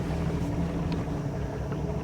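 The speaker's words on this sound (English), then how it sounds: "she's running about 600 RPM, 246, about 600 now" A 1973 Cobalt boat with a Mercruiser 165 hp engine idles at about 600 RPM, giving a loud, steady low rumble with a dense even burble that carries through the whole clip, and no one speaks.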